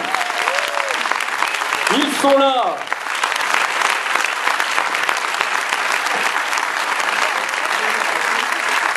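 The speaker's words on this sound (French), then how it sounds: "Je vous demande d'applaudir Gérard Jugnot et Daniel Auteuil." At a film premiere of Entre amis, a crowd gives loud, sustained applause for actors Gérard Jugnot and Daniel Auteuil, with someone speaking briefly over the clapping near the start.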